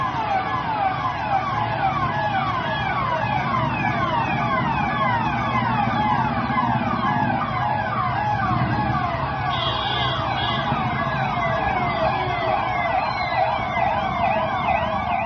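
Sirens from a long vehicle convoy at an election campaign event in Uttar Pradesh, several wailing tones overlapping and cycling continuously at steady loudness, with engine rumble underneath and no talk.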